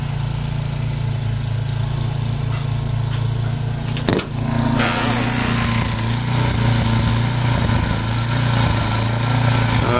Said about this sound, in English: The snowblower's having a little bit of trouble, but it's fine.